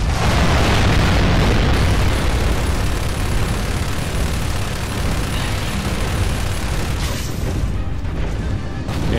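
Continuous loud barrage of explosions and booming gunfire in the Gears of War 2 video game, a dense, rumbling wall of blasts with no let-up and a slight thinning near the end.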